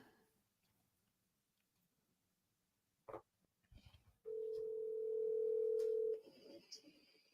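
A telephone line being dialed out: a brief click, some faint handling noise, then a single steady tone lasting about two seconds, fairly quiet and close.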